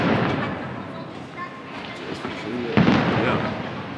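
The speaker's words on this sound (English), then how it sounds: "The big old fireworks." Fireworks go off at night after a NORRA 1000 prize giving, rolling crackles and dull booms at moderate distance under a constant crowd murmur, with one sharper bang near the end.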